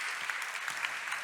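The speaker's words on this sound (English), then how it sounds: "You can give her some warm applause" Warm applause from a conference audience greeting a woman walking up from the back of the room to speak, a steady wash of clapping with no voices over it.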